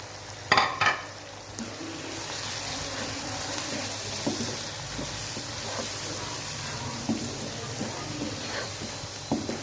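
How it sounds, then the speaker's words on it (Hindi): Spices and tomato fry in a pan for a chicken and capsicum curry, giving a steady, close sizzling hiss throughout, with a couple of sharp utensil knocks at the start and light stirring scrapes after. "इनको सारे मसालों को अच्छी तरह से भून लेना है।"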